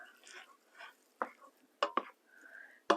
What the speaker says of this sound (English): Each time you put something in, stir it.